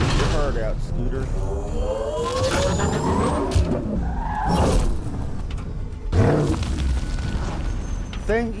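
Nomad rover in Mass Effect Andromeda, its engine growling loudly and continuously while tires skid, with booming bursts near the middle and end, over game music and voices.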